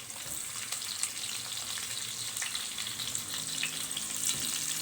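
Chopped onions with garlic frying in hot oil in a pan, a continuous close sizzle with crackling bursts and occasional stirring, steady throughout with no talk.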